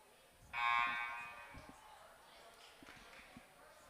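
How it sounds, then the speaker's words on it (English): A basketball game buzzer at a girls high school game sounds once, loud and held for about a second before fading into the gym's faint crowd murmur and scattered thuds. "There's the buzzer."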